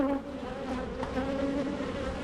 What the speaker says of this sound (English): we've got a mixture of new bees here